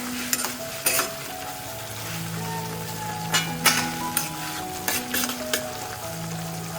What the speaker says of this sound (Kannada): ಉಪ್ಪು ಹಾಕಿ ತರಕಾರಿ ಎಲ್ಲ ಚೆನ್ನಾಗಿ ಫ್ರೈ ಆಗಬೇಕು